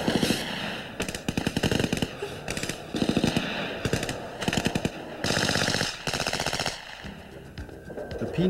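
Bursts of automatic fire from an FN Herstal P90 submachine gun shooting SS-190 ball rounds, loud rapid strings of shots broken by short pauses, with no talk.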